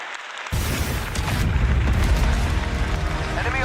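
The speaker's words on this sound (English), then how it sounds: "Enemy artillery intensifying." Heavy artillery explosions in a PlayStation video game trailer, a dense run of deep booms and rumbling blasts that starts abruptly and keeps going loud and close, with some speech mixed in.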